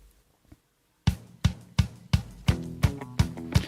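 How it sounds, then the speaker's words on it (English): Podcast intro music starting after a moment of near silence, with a steady beat of punchy, evenly spaced drum hits and tonal backing, played close and moderately loud. "The music will sound like this"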